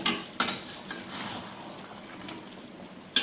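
Fried chicken being stirred into masala in a pan, a soft continuous sizzle with a few sharp clanks of a spoon against the metal at the start and end, close, without talking.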